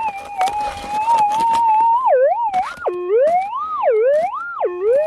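A metal detector sweeping for gold in the Australian outback gives a loud target signal: a strong warbling electronic tone that swoops up and down in pitch over and over, close and clear, with faint scraping beneath.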